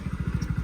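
A motorbike engine idles close by in a brief, steady run of rapid low thumping pulses as the bike is brought to a stop to park.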